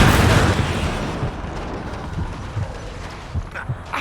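Heavy turret fire in the shooter game Gears 5 opens with a loud blast, then continues as irregular thudding impacts and booms that fade somewhat, with no voices.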